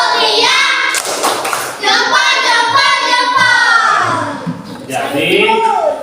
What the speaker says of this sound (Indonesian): tepuk jempol untuk Hijriah